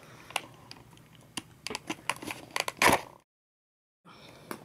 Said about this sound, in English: I think I'm just going to cut the strap on this one.